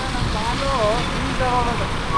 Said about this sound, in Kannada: ಹುಸಿ ಮಳೆ ಅಲ್ಲ ಗುರು. ಈ ಮಳೆಗೆ ಓಡ್ಸೋಕ್ಕೆ ಕಷ್ಟ.